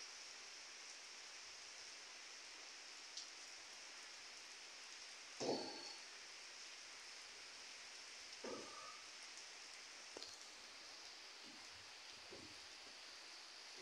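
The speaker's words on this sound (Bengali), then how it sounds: "এখন বৃষ্টি হচ্ছে খুলনায়।" Rain falls steadily in Khulna, a faint, even hiss of drops on surfaces, with a few soft knocks and clatters scattered through the wash of sound.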